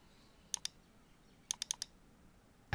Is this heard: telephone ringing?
no